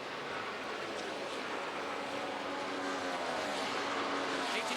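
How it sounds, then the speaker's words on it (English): Kyle Busch's number 18 NASCAR race car enters pit road at the 2012 Brickyard 400, heard as a steady, broad engine roar with a washing crowd-like background, fairly even in level and without voices. "18th car of Kyle Busch will hit pit road right now"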